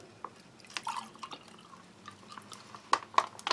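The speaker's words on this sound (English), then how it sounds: "pour that into the glass" Liquid from a Norwegian Army arctic field ration of reindeer stew is poured into a glass, giving scattered faint drips and splashes that end in a few sharper, louder spatters.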